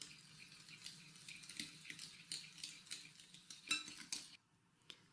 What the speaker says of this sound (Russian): Немного взбиваю. Постепенно ввожу сахар и все перемешиваю.